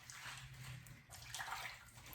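Dirty leeks are washed by hand in a basin of water, giving a steady, soft splashing and swishing of water close by, with no talk.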